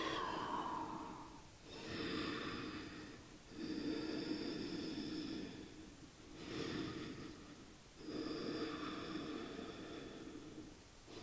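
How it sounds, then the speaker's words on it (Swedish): Slow, deep breathing in and out during a leg-strengthening and stretching yoga session, each long airy breath lasting about two seconds with brief pauses between, close and steady with no talk. "Andas in, andas ut och vi kommer ner."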